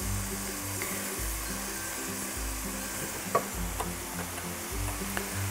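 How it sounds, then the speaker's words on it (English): Kimchi frying in a pan, a continuous close sizzle and crackle with a low rhythmic rumble underneath and occasional small scraping taps of stirring, no voices. "I'm gonna cook this kimchi until it's translucent"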